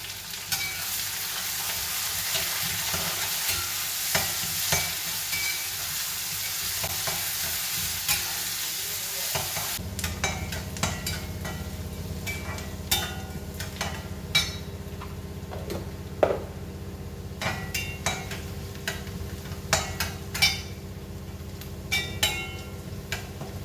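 Ginger, curry leaves, carrot and a dried chili sautéing in a pan, a loud even sizzle for the first half, then quieter frying with frequent sharp ticks and clinks of a utensil against the pan.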